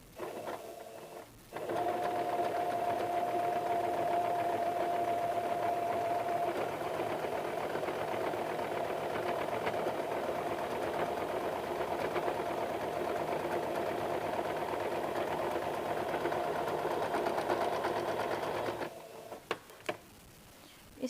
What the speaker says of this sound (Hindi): अब हम इस पर डबल सिलाई कर देते हैं।